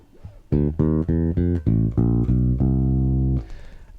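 An electric bass plays a riff using chromatic approach notes from below toward a C: a run of distinct low plucked notes that ends on a longer held note, followed by a brief quieter tail.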